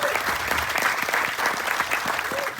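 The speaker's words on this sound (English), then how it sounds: "one more little round of applause for them" A round of applause from a small crowd at an outdoor evening gathering in Walt Disney's hometown, steady close clapping for a few seconds with faint voices mixed in.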